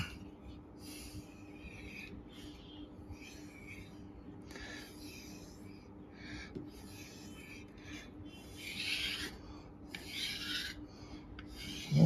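A knife blade is sharpened on a store-bought whetstone, giving repeated close, quiet rasping strokes in a steady back-and-forth rhythm.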